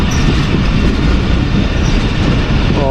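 A locomotive-hauled passenger train rolls slowly through a railway station, making a loud, continuous rumble with steady clickety-clack and a faint wheel squeal near the end.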